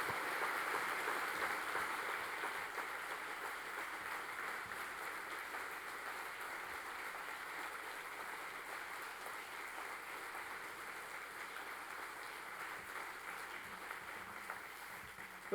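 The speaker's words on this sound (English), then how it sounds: "You could give him another round of applause" Applause from an outdoor crowd at a family picnic political rally, a steady, faint, distant patter of clapping that slowly tapers off.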